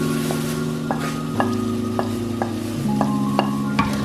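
Spices are stirred into mixed vegetables (potato, peas and carrot) in a pan, a spoon scraping in a steady rhythm with sharp clicks against the metal over a constant background sizzle, close and moderately loud with no talking.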